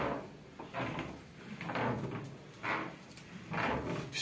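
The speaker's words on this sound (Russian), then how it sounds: "вот таким образом погонять дверь" A door on butterfly hinges is swung back and forth after greasing, giving repeated short creaking and rubbing sweeps at an irregular rhythm, close by and moderately loud, with no talk.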